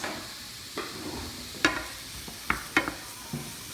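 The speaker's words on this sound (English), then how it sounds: "Just give it a little stir." Onions sizzle softly in a pan while a utensil stirs them, giving a steady low frying hiss broken by a few sharp scraping clicks.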